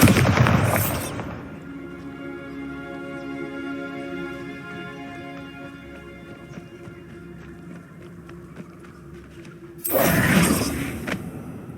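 Bombarda spell explosions in Hogwarts Legacy: a loud blast at the start and another near the end, separated by a sustained humming magical tone that hangs in between.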